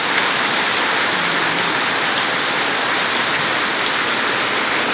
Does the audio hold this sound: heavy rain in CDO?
yes